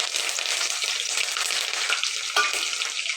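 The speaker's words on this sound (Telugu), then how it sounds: "ఇవన్నీ బాగా వేగనివ్వాలండి నూనెలో" Chana dal, urad dal and curry leaves frying in hot oil give a dense, close, continuous sizzle with light crackling and a brief stir near the end.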